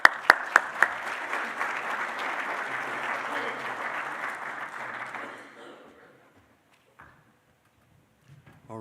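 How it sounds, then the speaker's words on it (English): An engineering symposium audience claps, opening with a few sharp individual claps before swelling into steady, dense applause that fades out after about five seconds into near silence, with faint scattered noises afterward. "Let's give him a round of applause"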